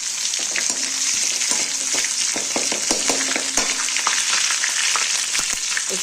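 Mustard seeds, ginger and green chilli sizzle and fry in hot oil, a steady bright hiss with small crackles and pops scattered throughout. There is no talking.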